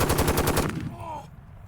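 A heavy-recoil gun meant to replace a .50 cal fires a fast, loud burst of shots up close, ending abruptly and leaving a brief ringing tail.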